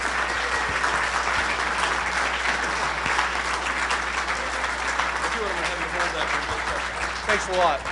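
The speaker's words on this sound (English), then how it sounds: "give me another round of applause for Vince Palamara" Sustained applause from a sizable conference audience in Dallas, Texas, steady and full throughout, with a few voices mixed in toward the end.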